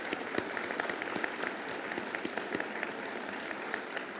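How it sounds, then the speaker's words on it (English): Audience applause at an eighth grade bridging ceremony, a soft, moderately distant patter of many hands clapping steadily, with a few sharper individual claps standing out. "Let's go ahead and start with a round of applause real quick for our team members."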